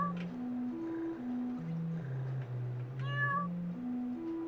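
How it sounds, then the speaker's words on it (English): A cat meows in the pixel dream-exploration game Me, a Yume Nikki fangame; one short rising meow sounds partway through over a slow, low stepping synth melody. "Affectionate cat?"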